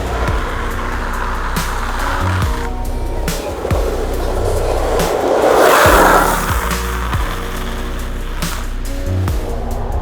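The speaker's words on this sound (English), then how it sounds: "here's the car coming" A car approaching along a road while soft skateboard wheels slide on the pavement. Loud continuous rolling rumble and wheel noise swell toward a peak midway, then ease off, with clunky bumps throughout.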